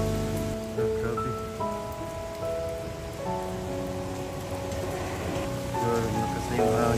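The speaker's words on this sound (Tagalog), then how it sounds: "Grabe, napakalakas ng ulan dito." Steady heavy rain from a typhoon pours down in a continuous dense hiss, with some tonal sounds drifting through in the background.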